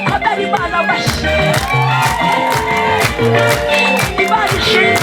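An audience clapping in praise of God at a church gathering, loud rhythmic clapping mixed with music and crowd noise throughout.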